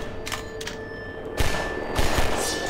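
Enemy gunfire in Half-Life 2 comes as a few short sharp bursts, the later ones louder and closer, over a steady background hum with no talk.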